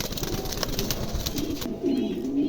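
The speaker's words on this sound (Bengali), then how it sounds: "দুটো কবুতরই অনেক সুন্দর আছে" Pigeons coo softly and repeatedly, low and rolling, with faint background clatter and no talking.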